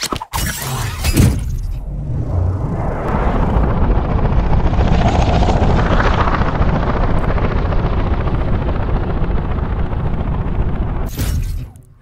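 A loud, steady mechanical whirring roar from a mechanized hang glider in Fortnite Battle Royale, holding for about ten seconds with a brief rushing burst before it starts.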